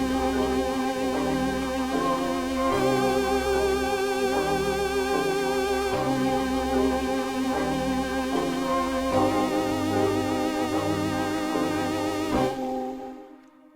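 A lo-fi sample preset called Good Morning from the East West LO-FI virtual instrument, playing a looping sustained musical pattern with steady bass pulses and layered tones for about twelve seconds before cutting to silence, with no talking.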